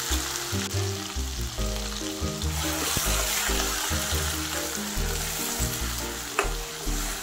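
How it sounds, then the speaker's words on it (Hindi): A paste of ground green chili, tomato and garlic fries with cumin in a pan: a steady, loud sizzle with occasional stirring scrapes runs throughout, with no talking. "और इसको फ्राई करेंगे अच्छे से"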